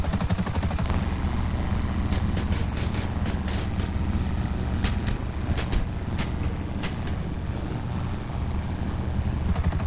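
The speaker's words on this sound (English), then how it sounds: "I'm just gonna land this helicopter here" A helicopter in Grand Theft Auto 5 Online drones steadily with a heavy low rotor rumble and a thin high whine, joined by scattered clicks and bursts from the game, with no talking.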